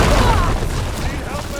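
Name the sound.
explosion in Horizon Forbidden West video game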